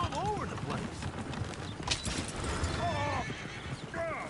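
Horses in Red Dead Redemption 2 whinny several times in rising and falling cries over clip-clopping hooves, with scattered gunfire and shouting voices nearby.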